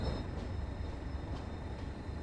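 Locomotive in Train Sim World 2 coasting slowly, about 5 mph, through a carriage wash on the West Cornwall line, giving a steady rumbling rail and engine drone with faint periodic clanks and no talk.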